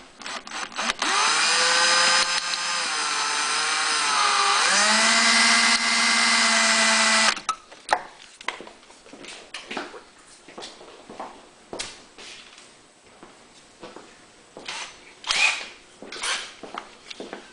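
A power drill with a cut-down bit whines steadily for several seconds while fitting a fuel kit to a Honda EU6500is generator, its pitch dropping partway, then stops, followed by scattered clicks and knocks of handling tools.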